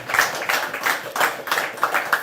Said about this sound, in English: can we give a better applause for today?